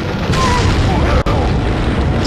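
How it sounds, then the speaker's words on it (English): A grenade goes off in Resident Evil 4 as a loud, sustained booming roar that fills the whole moment, with one brief dropout partway through. "Take a grenade. In the face, dude."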